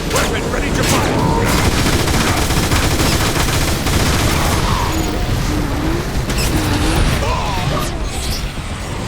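Sustained weapon fire from a battle in the video game Transformers: War for Cybertron, dense rapid bursts and crashes layered over game noise and voices, loud and continuous throughout.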